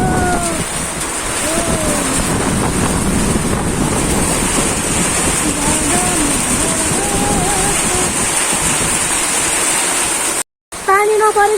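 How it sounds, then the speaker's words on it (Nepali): Heavy rain pours down on a maize field during weeding, a loud, dense hiss that runs continuously beneath people talking. "यत्रो पानी चाहिँ अहिले मैले देखेकै थिएन क्या।"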